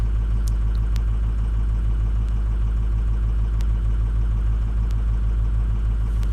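A car engine runs steadily close by during a diagnostic check, with a low, continuous rhythmic rumble and faint occasional ticks and no talking.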